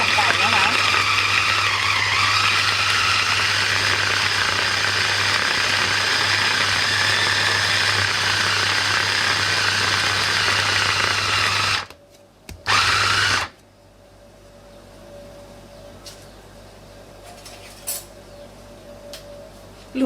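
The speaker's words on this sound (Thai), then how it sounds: "ค่อยๆปั่นไก่นะคะ" A loud, continuous mechanical whir of a blender grinding chicken breast meat, running steadily before stopping abruptly, followed by a brief restart and quieter room noise.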